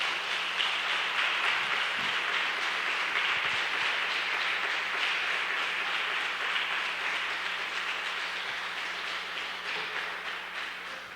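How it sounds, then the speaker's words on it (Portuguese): A congregation gives sustained applause in a church, an even roomy wash of many hands clapping that slowly tapers off. "Você pode dar uma salva de palmas para o Senhor?"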